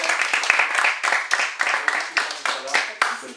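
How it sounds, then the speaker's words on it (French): Small group applauding at a coaching training session, a dense run of close hand claps with a few rhythmic pulses, lasting a few seconds. "On peut applaudir comme ça."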